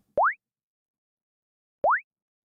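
A synthesized kick drum built from a sine oscillator in Surge XT, pitched up so each hit sweeps upward instead of dropping; two clean, short tonal blips about a second and a half apart, alone in silence.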